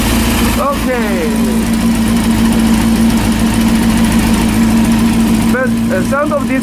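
A rebuilt Honda CB400 motorcycle engine idles steadily with a constant hum and close, loud exhaust drone, with brief chirping sweeps rising over it near the start and end.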